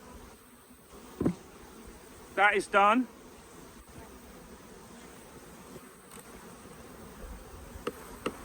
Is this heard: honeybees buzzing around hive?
yes